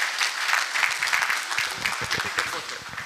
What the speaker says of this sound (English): I would like big round of applause to everyone here.